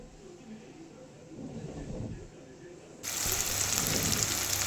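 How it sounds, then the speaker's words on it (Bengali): Pieces of pointed gourd (potol) frying in oil with salt and turmeric: a soft background that suddenly swells into a loud, steady hiss and crackle of sizzling oil partway through. "করে নুন হলুদ দিয়ে পটলগুলোকে একটু ভেজে নেবো"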